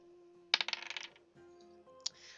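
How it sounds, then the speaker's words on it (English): Dice rolled at a tabletop Dungeons & Dragons session clatter and bounce in a quick rattling burst that settles, followed by a single sharp click, close and fairly quiet over a faint steady hum. "can you guys hear the dice rolls?"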